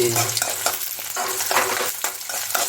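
Onions frying in oil in a kadai, a steady close sizzle with stirring clatter running throughout, no voices.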